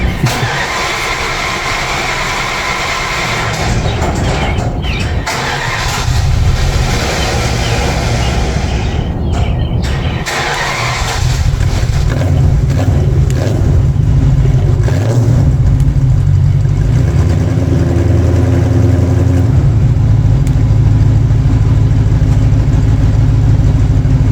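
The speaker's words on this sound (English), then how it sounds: "this was me trying to start it after a few months of sitting" A 1981 Aston Martin V8 Volante that has sat for months cranks and struggles, then catches and runs with a loud, rough V8 rumble that settles into a steady idle with occasional revs.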